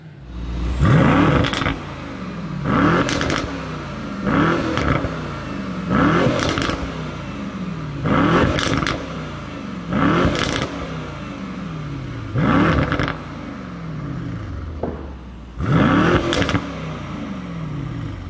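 A pre-facelift Mercedes-AMG E63S V8 revs repeatedly just after a cold start, giving about eight loud, close blips that rise and fall in a steady rhythm with brief idle gaps between them.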